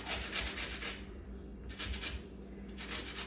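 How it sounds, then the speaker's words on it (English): A lemon zested on a microplane grater, three close rasping strokes in quick succession with short pauses between them, heard alone without talk. "To zest our lemon, I'm using the microplane"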